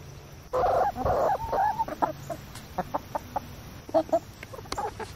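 Hens cluck in a chicken coop, one loud bird up close followed by a series of shorter, scattered clucks and calls from the flock.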